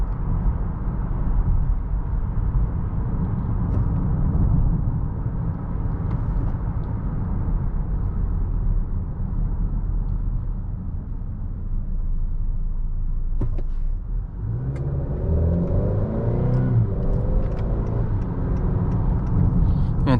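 A 2020 Honda Accord EX-L with the 2.0T turbocharged engine driving along, heard from inside the cabin as a steady low engine and road rumble that holds throughout, with a brief shift in tone and some light rattles late on.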